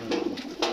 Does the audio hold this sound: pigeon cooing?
yes